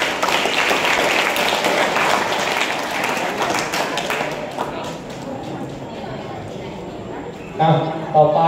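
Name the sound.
students applauding a classmate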